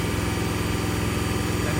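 A 1999 Jeep engine held steady at 2,500 RPM during catalytic converter testing, a loud, even, continuous drone with a fast regular pulse and no talk.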